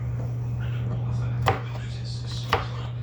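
Two sharp knife chops roughly cutting peppers on a cutting board, spaced about a second apart, over a steady low hum in a quiet room.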